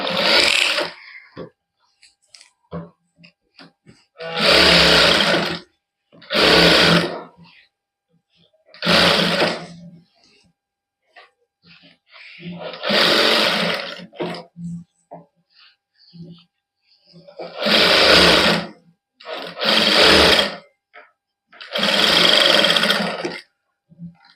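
A sewing machine runs in about seven short bursts of fast, whirring stitching along the neckline of a woman's suit. It stops and starts with quiet pauses between the runs.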